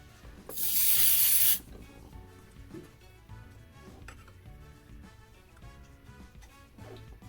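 Lube sprays in one brief hissing burst onto the spline of a Honda XR200R motorcycle's gear lever shaft in a workshop, followed by quiet handling noises.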